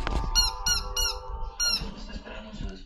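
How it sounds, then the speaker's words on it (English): A squeaky dog toy shaped like a bone gives a handful of sharp, high squeaks in quick bursts, close and clear, with a low thump at the start. "Hey, squeaky toy. It's a bone."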